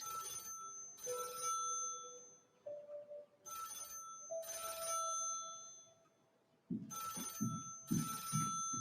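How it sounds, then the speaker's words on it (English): An old-fashioned telephone bell rings in bursts of about a second each, repeating several times with pauses between, with a low hum in the quiet gaps and some rumbling movement near the end. "I need Betty to answer the phone"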